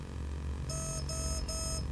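Beeps from a TowerPro MAG 8 18A ESC being programmed: three evenly spaced tonal beeps sound over a steady motor hum, each held for about a third of a second.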